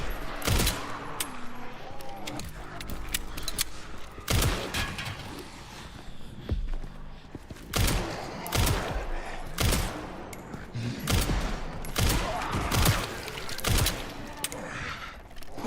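Heavy gunfire in the survival horror video game Resident Evil Requiem, with repeated loud bursts of shots and rapid volleys spread across the whole stretch, some shots close and sharp, others clustered into fusillades.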